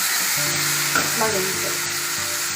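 Chopped tomatoes fry in oil for a mushroom curry, giving a steady, close sizzling hiss with faint clinks in the background.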